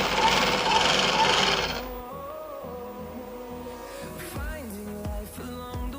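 A sewing machine runs in a fast, steady whir while stitching a petticoat, then stops, and a voice carries on talking over quiet room tone.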